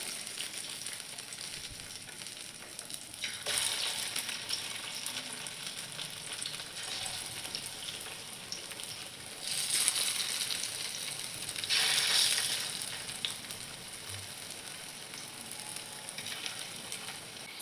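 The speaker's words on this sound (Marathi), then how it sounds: "आता आपण नाश्ता तेलात टाकून घेऊ." Poha and besan snack pieces deep-frying in hot oil give a steady, dense sizzle throughout, with brief louder bursts of crackle as more pieces are dropped in; no voices.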